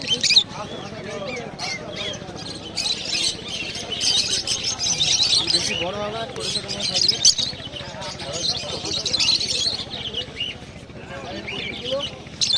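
Cockatiels chirp at a busy bird and animal market in Srirampur. Bright, scattered tweets come through over someone talking close by and general market chatter.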